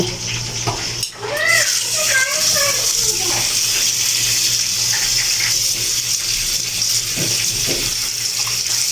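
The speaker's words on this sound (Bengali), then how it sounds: "আমি রুই মাছটা এখন সুন্দর করে ফ্রেশ করে ধুয়ে তারপরে এটাকেও ফ্রাই করব।" Tap water runs steadily as a rohu fish is rinsed clean in a home kitchen. The hiss is continuous and fairly close, with a few brief tonal sounds near the start.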